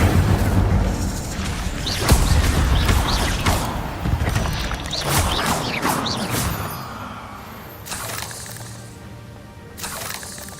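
The Incendio fire spell is cast during magical combat in the game Hogwarts Legacy. It comes as a loud whooshing burst with rumbling booms and crackles, followed by fading mechanical creaks and a couple of sharper later hits.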